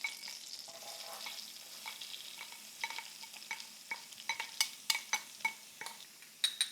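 Two large chopped onions frying in hot melted butter, a soft steady sizzle with repeated spoon scrapes and taps against the pan while being stirred.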